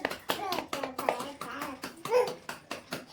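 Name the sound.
child clapping hands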